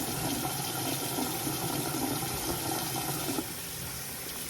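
Water runs from a tap while a face mask is rinsed off, a steady close rushing and splashing that carries on throughout and drops slightly in level near the end.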